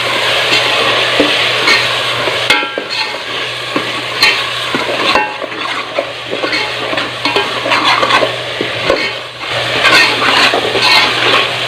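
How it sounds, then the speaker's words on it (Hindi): Crushed onions fry in ginger-garlic paste in a pan for street-style Lahori chikar cholay, a loud, continuous sizzle with stirring scrapes and clatter, close and steady with brief dips. "प्याज को इतना ही फ्राई करेंगे कि इसका पानी खिसक हो जाए"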